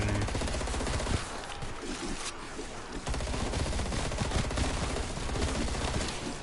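Rapid automatic gunfire in Call of Duty Cold War Zombies, dense continuous bursts of shots rattling without pause, loud and close, with brief dips between volleys.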